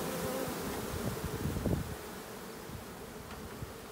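Honeybees swarming around hives on a homestead, a steady insect buzz filling the air throughout with a few louder passes close by.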